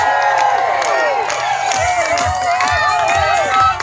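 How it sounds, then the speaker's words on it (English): A crowd at a lumberjack show log-rolling event cheers and shouts continuously, lively whoops and excited voices overlapping in a noisy, energetic din that carries on throughout. "Cheer him on, folks. They can hear you."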